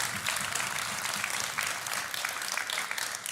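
A crowd applauding a player stepping up at a Clash of Clans leaders versus YouTubers tournament: dense, even clapping throughout, moderately loud and continuous.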